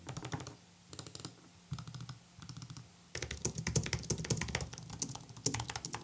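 Computer keyboard typing on a wool desk mat: bursts of soft, muffled keystrokes in quick runs separated by short pauses, then a denser, steadier stretch of typing, close by with no talking.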